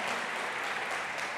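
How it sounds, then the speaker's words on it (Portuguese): A church congregation applauds, a brief, dense wash of many clapping hands at moderate volume that holds steady and carries no speech. "Aplauda ao Senhor e faça isso com alegria, com força, com convicção"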